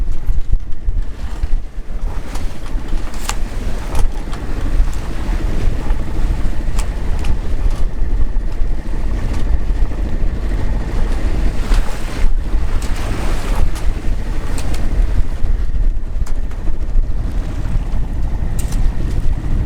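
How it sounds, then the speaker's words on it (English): A small boat motoring out on rough, very windy water, with a steady engine drone mixed into constant wind buffeting and wave wash throughout, loud and close. "I'm using the motor right now, but it is super windy and quite rough."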